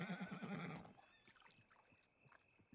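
A horse in a ranch roleplay video game neighs loudly, a harmonic whinny, then quieter hoof clops and small thuds trail off afterward.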